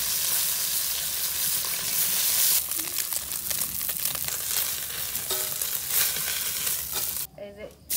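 Onions hitting hot oil in a pan for a fish curry with winter vegetables, giving a steady bright sizzle with scattered stirring scrapes that drops out sharply near the end.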